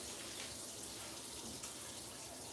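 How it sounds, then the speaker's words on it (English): Steady hiss of hot water running from a tap into a coffee pot, continuous and even, with no voices over it. "When you're filling up a coffee pot, you want to make sure you use hot water."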